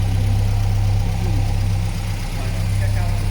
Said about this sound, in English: And I just had it out, so engine is actually pretty warm. And then it just purrs.